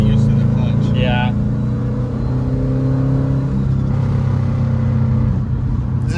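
A Subaru WRX hatchback with an EJ25 engine and a freshly installed 20g turbo, heard from inside the car as a loud, steady engine drone with a brief rise in revs, while people talk over it.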